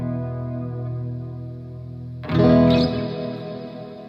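Electric guitar through effects pedals with reverb: a sustained chord rings out, then a brighter strummed chord swells in with spacious reverb tail, played alone.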